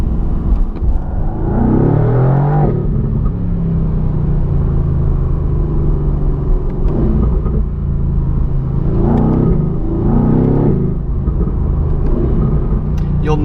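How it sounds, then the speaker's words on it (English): A Mercedes AMG GTR Pro rumbles on the road, its exhaust burbling and popping in repeated bursts as it downshifts, loud and close over a constant low drone, with a voice talking over it. "You'll notice as you downshift, there's a really nice burble that comes from the exhaust"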